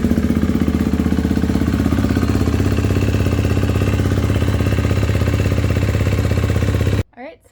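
A 2019 KTM 250 XCF dirt bike engine idles up close with an even, rapid thumping putter that runs steadily for about seven seconds, then cuts off abruptly into near silence.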